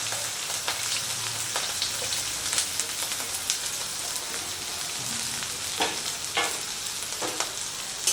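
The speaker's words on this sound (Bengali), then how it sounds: "তো এই দুটোকে এখন মিনিট 2 মতো ভালো করে ভাজা করে নেব।" Bitter gourd seeds and peels sizzle in hot oil with a pinch of asafoetida in a pan, a steady crackling hiss broken by the sharp scrape of stirring at irregular intervals, close and fairly loud.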